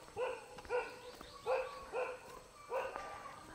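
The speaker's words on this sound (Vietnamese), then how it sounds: "Chó cũng đi cùng chủ này." Dog barking outdoors in a highland stilt-house village, four or five separate barks spaced about half a second to a second apart, moderately near but not loud, with no talk over them.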